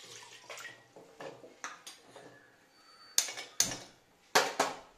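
Hot water is poured over palm jaggery in a home kitchen to dissolve it, heard as a run of soft splashing pours followed by several sharper sloshing bursts, close and quiet with no talking.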